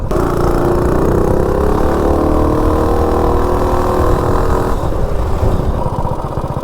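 A Coleman B200 minibike with a 196 engine pulls hard from a standstill to 30, its buzzing motor note climbing steadily in pitch for several seconds before easing off, loud and close throughout.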